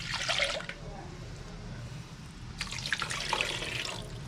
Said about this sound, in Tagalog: Tubig pa mga kabeli, lalagyan pa natin ng tubig.